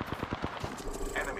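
Automatic weapon fire from the Apex Legends video game comes in a quick run of rapid, punchy shots. The burst fades into ambient game noise.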